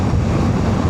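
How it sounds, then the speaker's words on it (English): Steady, full-band rumble of wind buffeting outdoors during a ride on a Suzuki V-Strom 800DE motorcycle, loud and constant throughout with no voices. "It's a bit windy outside."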